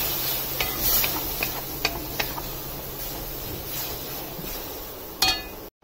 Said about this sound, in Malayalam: തക്കാളി പ്യൂരി ആക്കിയിട്ടുണ്ട് അതിലേക്ക് ഒഴിച്ചു കൊടുത്തിട്ട് നല്ലോണം ഒന്ന് മിക്സ് ചെയ്ത് കൊടുക്കാം